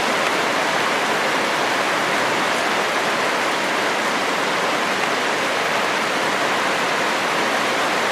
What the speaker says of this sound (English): There's the rain coming off the roof of the house. Hitting so hard it's bouncing up in the air, probably 6 feet.